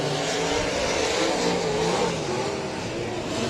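Sprint cars race at Heart O' Texas Speedway, a dense, continuous engine roar from several cars at once, loud and steady with slight swells as the pack passes.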